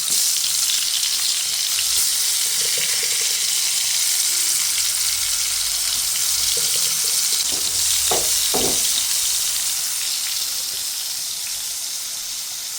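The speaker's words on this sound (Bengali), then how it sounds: "তেল মনে হয় অলরেডি গরম হয়ে গেছে এখন আমি বেগুনের মধ্যে দিয়ে দিচ্ছি" Eggplant slices fry in hot oil for begun bhaji, a loud, constant hiss of sizzling with a few brief clinks partway through, fading slightly toward the end.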